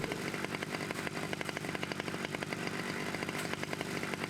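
Chainsaw roaring continuously at close range, wielded by the Chainsaw Dude enemy in The House of the Dead: Remake, a steady buzzing engine drone with rapid revving pulses throughout.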